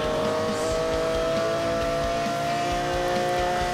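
A Lamborghini Aventador in Need for Speed Most Wanted revs hard and accelerates, its engine roar loud and continuous with steady harmonic tones rising through the whole stretch, a faint tire squeal edging in.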